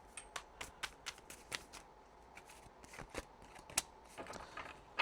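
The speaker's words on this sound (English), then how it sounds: "let's go ahead and let's pull out an oracle card for your closing message" Oracle cards shuffled by hand, a run of crisp riffling flicks and soft slaps repeating unevenly throughout, close and fairly quiet with no talking.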